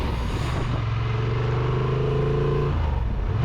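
A 2023 Honda Transalp 750 motorcycle engine pulls from low revs, a loud, close, continuous drone whose pitch climbs steadily, with wind noise over it.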